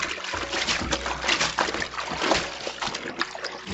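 A cotton t-shirt being rubbed and scrubbed by hand in a basin of water, giving steady close sloshing, splashing and dribbling sounds throughout.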